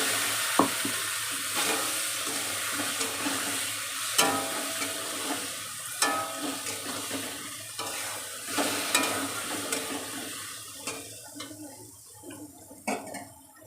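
Ground black mustard paste with green chillies and cumin fries in a pan, giving a steady soft sizzle broken by repeated scraping stirs and light clicks of the spoon. It is fairly faint and heard alone.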